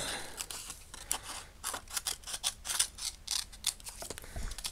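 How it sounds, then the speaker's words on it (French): Scissors snipping around scraps of paper, a quick irregular series of close, crisp cuts with short pauses between them. "Je découpe bien tout autour."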